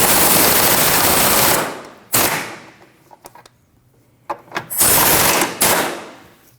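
An impact wrench rattles loudly in two long bursts while tightening trailing arm bolts on a 2013-2019 Ford Escape, with clicks and clanks from the tool and parts in the pause between.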